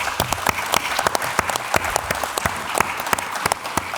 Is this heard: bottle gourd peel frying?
no